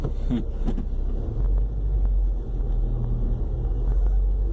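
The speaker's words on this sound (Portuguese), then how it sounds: "A gente está aqui no trânsito, todo vídeo do canal é trânsito." Late-afternoon road traffic heard from inside a car, a steady low rumble of engines and tyres with faint passing vehicles outside.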